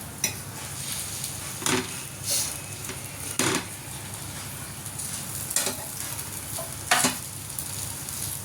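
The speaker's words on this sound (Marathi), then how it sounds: "ही दुसरी पण अशीच भाजून घ्यायची आपल्याला." A chapati roasts on a hot pan for a sandwich, with a soft steady sizzle running throughout and a few sharp scraping or pressing bursts standing out at intervals.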